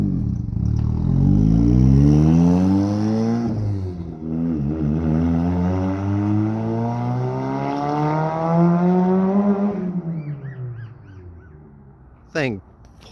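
A turbocharged Toyota MR-2 Spyder accelerates hard at full throttle, its engine note climbing through the gears with rising, falling sweeps, then fading as it pulls away; a brief sharp noise follows near the end, with no talking.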